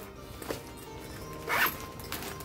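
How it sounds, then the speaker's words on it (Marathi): A handbag's zipper is pulled open in one quick, fairly close rasp that lasts a fraction of a second, set against a faint, steady room background. "इथे ही झिप आहे"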